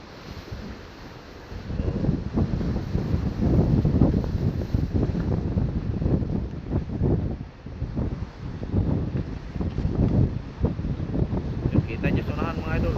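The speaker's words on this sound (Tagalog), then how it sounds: "Kaya lumakas ang agos, lumakas din ang alon at ang hangin." Strong wind buffets the microphone at sea while waves and current churn around a boat in rough conditions, a loud continuous roar with surging gusts throughout.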